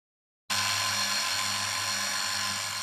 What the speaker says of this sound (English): Using the same center drill, making the 4mm holes in the steel plates